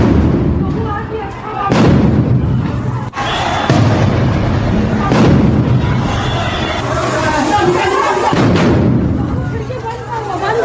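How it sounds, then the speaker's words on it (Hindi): Bombs go off in a street in Howrah, West Bengal, with several loud, booming blasts spread over the scene and a rumbling background between them, while people talk and shout nearby. "अंदर धमाकों की आवाज सुनिए जरा।"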